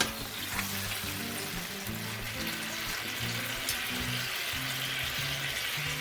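A bone-in steak fries in an oiled pan with a continuous, close crackling sizzle that holds steady throughout, with soft background music underneath.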